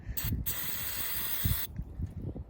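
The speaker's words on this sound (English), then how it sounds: "I'm just going to use some carb cleaner for that." Close, loud hissing bursts from an aerosol can of carb cleaner sprayed during a Honda CR-V PCV valve replacement, a brief spray then a long steady one, followed by faint clicks and fiddling noises.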